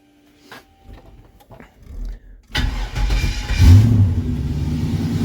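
A few clicks and cranking sounds, then a turbocharged C10 pickup truck engine fires up abruptly and settles into a loud, steady idle with a brief rev.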